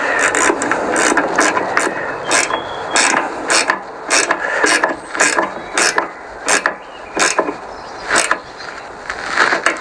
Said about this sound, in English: Turn the ignition on. Just give it a chance to pump itself up.